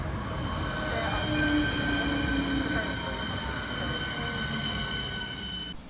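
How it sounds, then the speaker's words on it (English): An eight-coach train rolls steadily past nearby at Shortlands station in the UK, its wheels giving off a high, sustained squeal over a continuous rumbling roar. "This train has 8 coaches."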